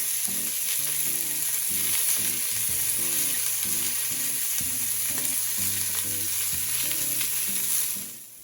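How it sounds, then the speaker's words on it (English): Beef short ribs searing in a hot pan give a steady, loud sizzle and hiss that holds evenly throughout, with low tones running underneath, then fade out at the very end. "don't move your beef around so it will form the brown crust that we want"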